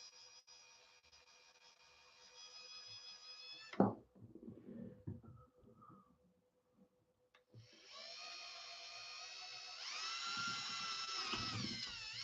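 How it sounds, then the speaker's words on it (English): A power drill bores slowly into aluminum on a Traxxas T-Maxx Dodge Ram RC truck, whining steadily, then stopping with a clunk and handling noises before spinning up again, whining louder and near. "Now this is aluminum, so you just got to drill it super, super slow like I am,"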